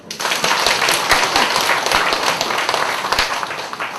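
Sustained audience applause at a Korean lecture, a dense, steady wash of many hands clapping at close range, loud throughout and holding level with no pause.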